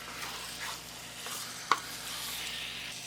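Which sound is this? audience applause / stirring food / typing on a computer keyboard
stirring food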